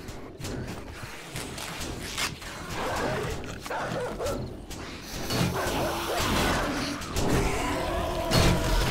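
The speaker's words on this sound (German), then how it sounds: "2 Hundis." Dogs bark repeatedly in the zombie survival game 7 Days to Die, several loud barks and yips layered over dense, noisy game sound with thuds and clatter.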